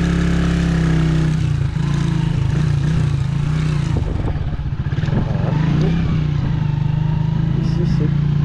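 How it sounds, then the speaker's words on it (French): A motorbike rides along a road near Libreville in Gabon, its loud steady engine drone close to the microphone throughout, rising and wavering slightly with speed changes. "Impressionnante moto, dis donc"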